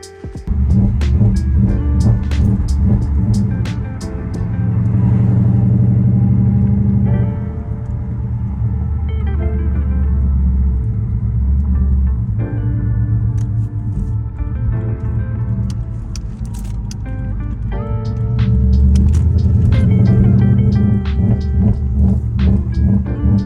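A Lexus IS F car engine idles steadily after sitting undriven for 45 days, a deep, loud, continuous rumble with shifting tones and occasional light metallic taps and rattles, heard close up with no talking.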